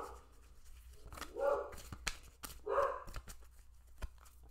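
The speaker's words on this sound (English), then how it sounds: "I apologize for the puppies making too much noise." Puppies bark in two short bursts at a moderate distance, with quieter yelps and small noises in between over a low background hum.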